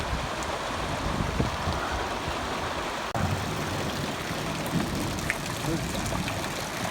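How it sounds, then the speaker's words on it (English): Steady rain falls while the sun shines, with water running through a gutter, a continuous even wash of patter and trickle with no voices. "Sun's shining and it's raining."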